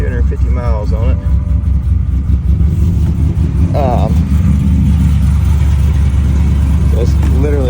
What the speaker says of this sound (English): Let's see if it'll crank up here.